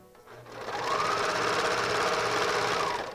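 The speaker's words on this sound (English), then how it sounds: "Then I start serging," A serger sewing machine stitching fabric for pajama pants, a steady rapid whirring drone that ramps up quickly, runs evenly at close range, then begins to slow at the end.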